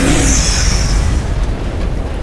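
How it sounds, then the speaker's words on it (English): A massive explosion roars loud and close, a dense sustained rumble with a sharp crack near the start, then decays into a thunderous, echoing wash that fills the whole span. "your ears ring with a sound of a massive explosion"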